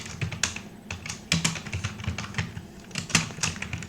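Rapid clatter of keystrokes on a computer keyboard as someone types a short paragraph, with irregular bursts and a few heavier key hits, close and clear with no talking.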